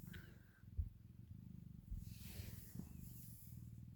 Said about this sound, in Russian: И мурлычет, и мурлычет.